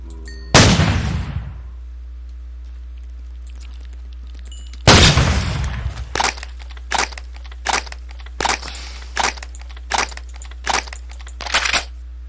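Shots from the W120 gun in Minecraft with Flan's Mod: two heavy booming blasts, the second followed by a string of evenly spaced sharp shots, all loud and close with no talking.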